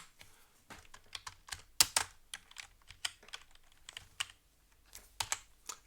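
Fingers type rapidly on a computer keyboard, a close, uneven stream of crisp key clicks and taps with a few louder strikes, alone with no talking.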